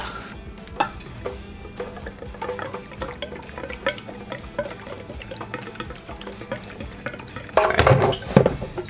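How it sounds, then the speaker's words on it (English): Gasoline poured from a can into a generator tank, with a stream of trickling, dripping liquid running for several seconds and a louder, fuller splash of filling near the end. "We shall take some gasoline and spill it"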